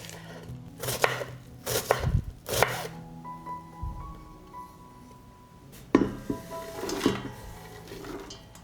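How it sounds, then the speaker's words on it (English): A knife chops celery and onions on a cutting board, with a few distinct sharp knocks in bursts separated by quieter pauses and faint kitchen clinks, close and clear. "I will cut the celery, onions,"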